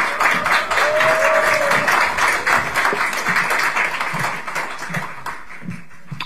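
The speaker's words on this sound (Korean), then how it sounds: "박수 부탁드립니다" Applause from a crowd at a Korean political party launch ceremony, a dense, steady patter of clapping that runs throughout and thins slightly toward the end, with faint voices underneath.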